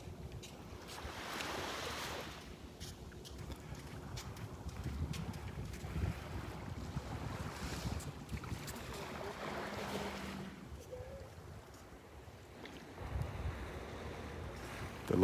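Wind blows across Vanderbilt Beach on a morning walk, gusting and buffeting the microphone in low rumbling swells, with faint surf washing in the background and no voices.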